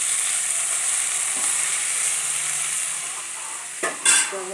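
Curry frying in a pan gives a steady, close sizzle throughout while it is stirred, with a couple of brief scraping clatters near the end.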